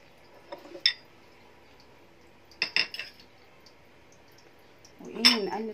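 A metal spoon clinks against the side of a bowl while stirring sprouted fava bean soup, three separate bursts of clinks and scraping, the last one with a liquid slosh.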